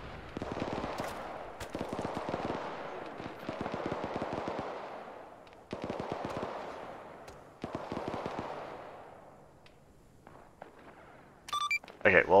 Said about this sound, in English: we've got something that sounds like a big cannon, possibly some big mortars or something